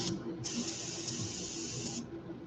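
Airbrush hissing as it sprays brown ink onto a rainbow smelt jerkbait lure, one steady burst of about a second and a half between quieter stretches, close and fairly loud with no talk.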